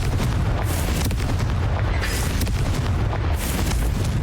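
Fiery blasting spell effects from the Hogwarts Legacy video game, heavy repeated booms and rumbling bursts filling the whole stretch at a loud, constant level, without speech.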